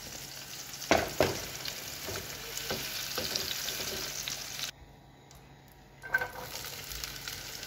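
Zucchini slices sizzle and crackle in hot oil in a frying pan, a steady close hiss broken by a few louder stirring clatters. The hiss drops out for about a second, then the frying noise returns.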